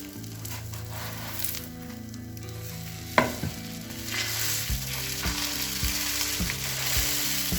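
Bread breakfast frying in a pan and pressed down with a spoon: steady sizzle with a sharp clack near the middle, then a run of repeated spoon taps and scrapes against the pan.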